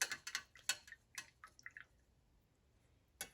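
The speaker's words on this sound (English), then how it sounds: "this is a good time to rinse your brush" An acrylic paintbrush is swished and tapped in a water cup, giving a quick cluster of close, light splashes and drips, then a pause and a final splash.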